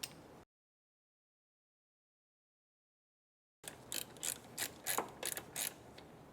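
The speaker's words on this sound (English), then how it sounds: "Now we're going to remove the charge pipe external Torx bolts." A ratchet loosening external E10 Torx bolts on the charge pipe of a BMW S55 engine in an F8x M2, M3 or M4: a brief burst, a stretch of dead silence, then rapid close clicking in quick spurts.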